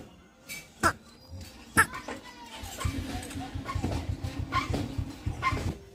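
A dog that had been gone for two days and came back thin and underfed gives two sharp barks, then whines and whimpers steadily. A faint voice can be heard in the background.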